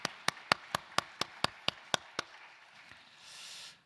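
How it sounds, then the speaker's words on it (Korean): A church congregation at a Sunday worship service claps in unison, about ten sharp, evenly spaced claps that stop after two seconds, leaving a soft room murmur. "영광의 박수 올려드리겠습니다."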